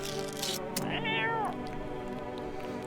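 A cat in the video game No I'm Not A Human lets out one clear, drawn-out meow, close and distinct, after a couple of brief clicks and followed by quiet game ambience.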